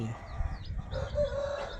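A hen clucks steadily while her newly hatched chicks peep in high, thin chirps close by, with faint farmyard ambience underneath.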